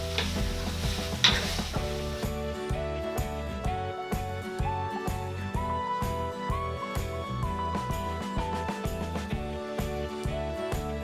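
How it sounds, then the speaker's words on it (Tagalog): Chicken feet with soy sauce are stirred in a pan, with soft sizzling and scraping under prominent rhythmic background music and no talking. "Tapos haluin natin para ma-spread po yung lasa ng toyo dito sa ating"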